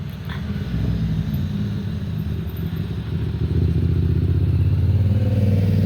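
A motorcycle engine runs loudly and steadily up close, a low throbbing rumble that grows a little heavier partway through, with no voices over it.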